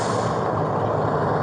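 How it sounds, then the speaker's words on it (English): A big truck passes close by outdoors, making a loud, steady roar of engine and road noise that fills the whole moment with no break. "That truck's going to be really loud."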